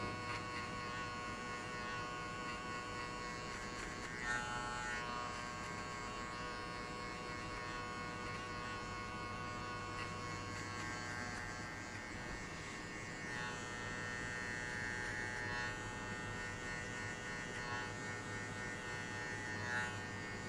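An electric hair clipper hums steadily and close while cutting a high fade, a continuous buzzing drone with slight changes in tone as it moves over the hair.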